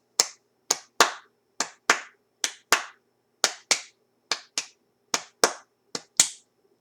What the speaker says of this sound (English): then I would practice just clapping it